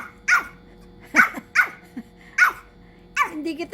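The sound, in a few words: Pomeranian puppy barking and growling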